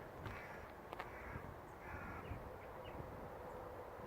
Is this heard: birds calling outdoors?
yes